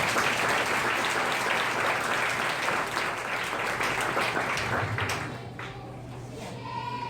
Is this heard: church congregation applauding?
yes